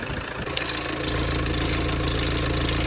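A car engine idles steadily and smoothly up close, a constant even hum with no shaking or sputtering.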